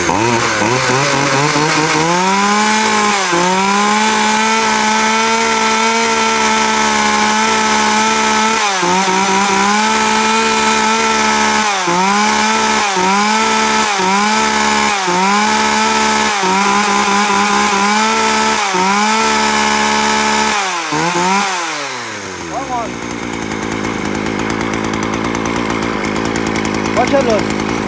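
An Echo chainsaw engine runs loudly up close, revving repeatedly in short bursts and then winding down to an idle before cutting off.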